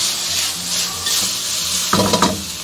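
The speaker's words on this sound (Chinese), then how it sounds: "炒出香味以后，我们下入料头跟萝卜干炒香" Salted pork, aromatics and dried radish stir-fry in a hot wok, with loud continuous sizzling up close and a quick burst of spatula scrapes near the end, no voices.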